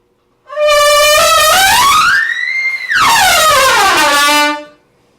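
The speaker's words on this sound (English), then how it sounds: "Let me honk a little bit." Two long, loud horn blasts with a pitch that bends, the second starting right after the first ends; no voices.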